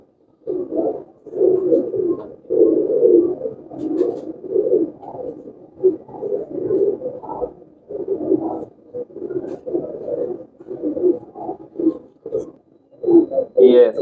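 Pigeons coo continuously at the Shahdara pigeon market, a dense run of close, loud, throaty calls repeating in rolling bursts throughout, with a brief higher chirp near the end.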